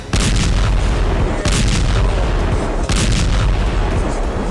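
Repeated heavy blasts from Israeli air force bombing at the Indonesian hospital in Gaza at night, three loud booming bursts roughly every one and a half seconds over a continuous rumbling din, with no voices.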